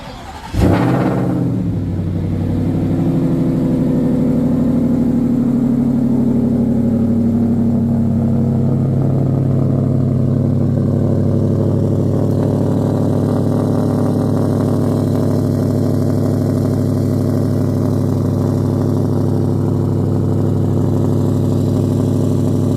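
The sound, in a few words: Shelby Ford Raptor R cold start, engine idling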